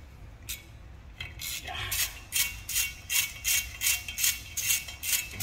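A ratchet wrench with a 6-point socket loosening the brake rotor security screw on a 2011 Chevy Silverado front brake: about a dozen quick, evenly spaced clicks up close, starting sparse and settling into a steady rhythm.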